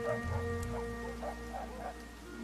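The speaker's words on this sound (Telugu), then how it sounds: "కుక్కలు మరుగుతాన్నాయి" Dogs bark somewhere outdoors, a quick run of faint, distant yaps over a steady low hum.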